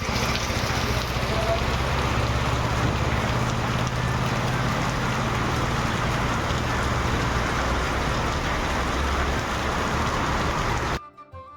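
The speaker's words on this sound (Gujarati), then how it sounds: "એક બાજુ જુઓ તો ફૂલ વરસાદ અને એક બાજુ કાંઈ જ નહીં" Heavy rain pours down in Rajkot, a steady loud broadband hiss of rainfall holding constant and then cutting off abruptly near the end.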